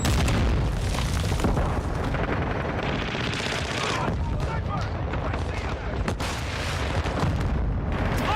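A Semtex grenade goes off in the Call of Duty Warzone battle royale amid a dense, continuous barrage of loud booms and rapid gunfire that fills the whole stretch without a break.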